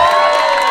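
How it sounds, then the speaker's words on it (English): Wedding guests loudly cheer and whoop for the bride's sister, a dense, close crowd roar with shouts that holds steady throughout. "have a big round of applause for the sister of the bride, Laura."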